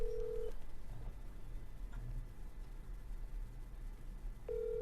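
An unanswered phone call rings out as a faint ringback tone, with one short tone at the start and another at the end. Quiet line hiss fills the gap between them.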